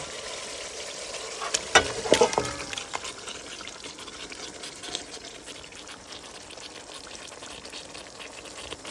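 Chicken pieces are tipped into a pan of spiced masala that has been fried down, and they sizzle and crackle loudly. A burst of stirring and clatter is followed by a steady, close frying hiss.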